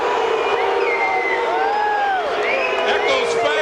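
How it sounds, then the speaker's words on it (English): A boxing arena crowd erupts as the referee stops a fight, loud continuous roar of yelling, whoops and cheering from a large audience, dense and sustained. "And you can hear the crowd's reaction."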